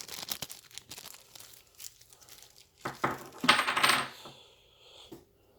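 Plastic bag crinkles and rustles as hands work a hefty D6 game coin out of it. A sharp clink comes early, then a louder burst of crinkling near the middle, all close up with no talking.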